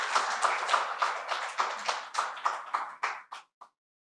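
An audience at an evening talk on the Indian rupee applauds to welcome a guest speaker to the stage, with steady clapping that thins into a few isolated claps and stops abruptly.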